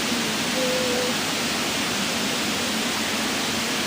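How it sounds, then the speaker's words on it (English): Steady broadband hiss of white noise in the Gorilla Tag video game, constant and even throughout with no variation, filling the whole clip on its own. "I can actually hear the white noise."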